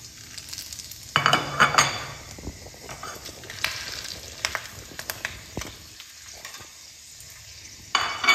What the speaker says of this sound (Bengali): এই মাছের ডিমে কোপ্তা ভাজার তেলেই আমি ফোড়ন দিয়ে নিচ্ছি।